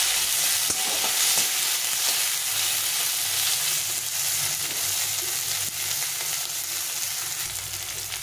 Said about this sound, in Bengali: দিয়ে টমেটো আর পেঁয়াজটাকে ভালো করে ভেজে নিতে হবে।